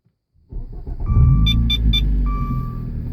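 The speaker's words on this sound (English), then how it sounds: "That exhaust, though." A 2015 Dodge Dart engine starts and settles into a loud, close, steady rumbling exhaust idle, accompanied by a few short electronic chimes from the cabin.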